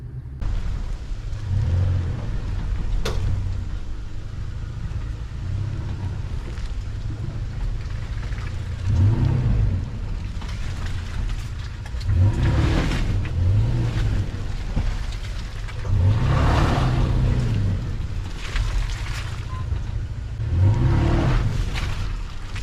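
An off-road vehicle four-wheeling with a Freedom Locker locked differential rumbles and revs in repeated surges, with engine swells roughly every few seconds over a steady low drone and some rattling.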